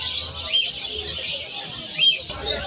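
Cockatiels at a busy Malabon pet market give continuous shrill chirps and whistles, with a few louder calls standing out nearby and faint crowd murmur underneath.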